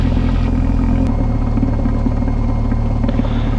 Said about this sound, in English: We're going to do a quick taxi here and a run up at the end